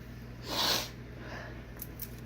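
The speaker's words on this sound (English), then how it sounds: "I think a sneeze is coming from all the pepper." A single quick, breathy sneeze or snort up close, set off by pepper while cooking beef stew, short and faint, then quiet room tone.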